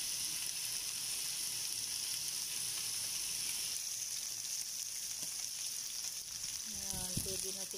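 Milkfish fries in a pan with a steady, close hiss of sizzling oil throughout, and a few faint clatters near the end.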